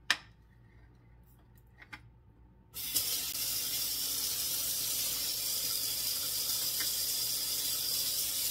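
Tap water pours into a sink after a few soft clicks and knocks, then runs steadily as a loud, continuous hiss until the end.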